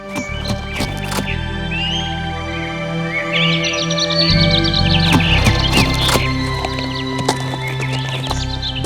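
A horse whinnies amid scattered hoof clops and sharp knocks, with birds chirping in the background, in an animated children's story.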